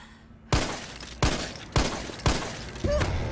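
Gunfire in the Resident Evil 3 video game rings out as four loud, sharp bursts spaced about half a second apart, each decaying quickly with a reverberant tail and no talk over it.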